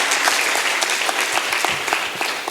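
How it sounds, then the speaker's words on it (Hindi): Dense, steady applause from an audience at an evening poetry and song gathering on a college campus, continuous claps filling the moment without voices. "एक बार जोरदार तालियां आयुष भाई के लिए।"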